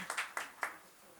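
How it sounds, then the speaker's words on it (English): A conference audience gives a short burst of applause for session chairpersons, heard as four quick, separate hand claps at moderate distance that trail off into quiet. "Can I have a loud round of applause?"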